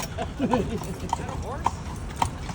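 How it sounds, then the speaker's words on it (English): Mule hooves clip-clopping on a New Orleans street as a carriage is pulled along, a steady rhythm of sharp near hoof strikes with people chatting over them. "Is that horse? It's a mule."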